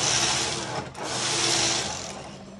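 Silver Reed knitting machine carriage sliding across the needle bed while knitting tuck stitch from a punch card, a loud continuous mechanical whir and rattle with a brief dip partway through as the carriage turns.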